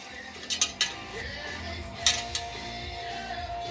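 A bolt coated in Loctite is tightened down on a part being installed, giving a few sharp metallic ratcheting clicks early on and another near the middle, fairly close, over a quiet room hum.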